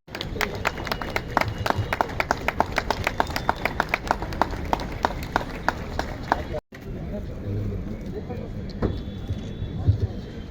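An audience at a traffic warden organisation's 40th anniversary sports and cultural event claps in a steady, rhythmic beat for about six seconds, then the clapping gives way to quieter crowd murmur and room noise.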